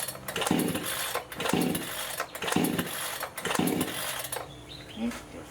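A Giantz 62cc chainsaw is pull-started again and again on choke, giving four rhythmic bursts of a sputtering engine about one second apart. The engine does not catch, and a faint mechanical tail follows the last pull.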